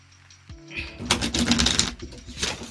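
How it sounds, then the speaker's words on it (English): Odd-shaped tarot cards are shuffled in a rapid burst of crisp, fluttering riffles and slaps close by, with a soft voice speaking underneath. "It's very hard to shuffle these odd shaped cards."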